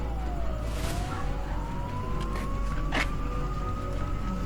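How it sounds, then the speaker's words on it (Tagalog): An ambulance siren wails at moderate distance, its tone slowly rising and falling beneath a dense, steady background of street and crowd noise. "Pero, may ambulansya."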